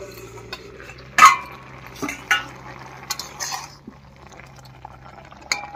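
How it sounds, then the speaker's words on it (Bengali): A metal lid comes off a pot of pumpkin greens with jackfruit seeds and potatoes, then the pot is set down off the heat, giving scattered sharp clinks and scrapes over a quiet kitchen hum. "এবার ঢাকা খুলে নামিয়ে নিচ্ছি।"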